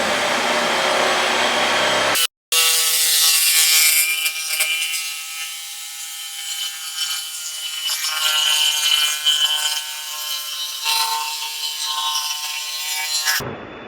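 An iBall jigsaw cuts a curved shape: a brief start and a short cutout, then a steady, loud buzzing saw with a rasping cut running close for about eleven seconds before stopping abruptly.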